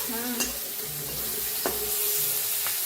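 Onion frying in a pan for a village-style gavar (cluster bean) bhaji, a steady soft sizzle with a few sharp scraping stirs of a spoon against the pan.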